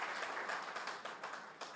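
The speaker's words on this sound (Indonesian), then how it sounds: "Tepuk tangan dulu buat Tuhan Yesus." A church congregation at a Christmas service in Jakarta breaks into sustained applause, dense and steady clapping from a crowd with a few louder bursts, no talking over it.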